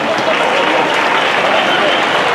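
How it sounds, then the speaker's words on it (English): An expo audience claps for a young speaker in a short, loud burst of dense clapping, with voices mixed into the noise. "Clap hands for him."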